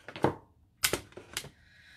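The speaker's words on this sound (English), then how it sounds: "so it's time to fussy cut. Grabbing my Stampin' Snips." Stampin' Snips craft scissors cut paper in a few close, crisp snips, about four separate cuts in two seconds, with no talking.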